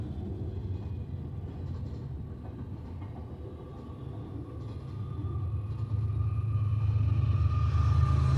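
A train rolls past with a heavy, continuous rumble and faint rail clatter, close and steady. It grows slightly louder toward the end, and no one speaks.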